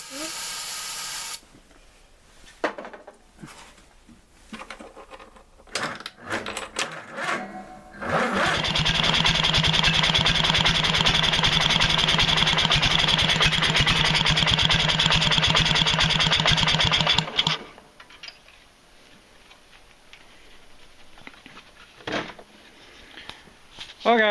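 An opposed twin engine is test-fired after a coil install, first with scattered short coughs and pops, then catching and running steadily and loudly for about nine seconds before cutting out, followed by quieter handling noises.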